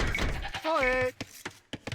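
A sheep bleats in Age of Empires 2, a single wavering bleat of about half a second, close and clear, surrounded by short clicks and taps of game activity.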